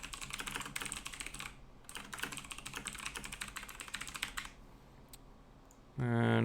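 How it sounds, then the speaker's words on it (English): Rapid clatter of keys on a computer keyboard in bursts, with a brief pause midway, close and clear before a voice begins speaking at the end. "So here we're going to type our consent form."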